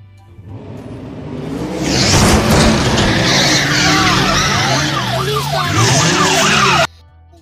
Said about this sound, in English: C for car.